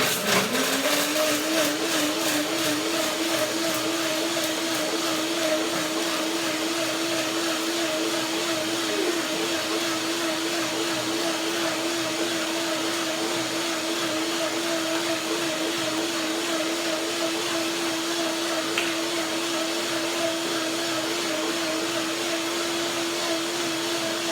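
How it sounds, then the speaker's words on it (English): A blender whirs steadily and loudly throughout, blending cashews with water into cream, its motor pitch settling into a constant drone after a brief wobble at the start. "A little bit of water to begin, maybe half cup, to begin blending."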